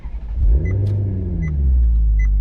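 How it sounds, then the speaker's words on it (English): A Maserati GranTurismo engine starting with the ignition key, with a brief crank and then a deep, loud, rumbling idle that holds steady close by, with no voices. "put the key in the ignition and turn it"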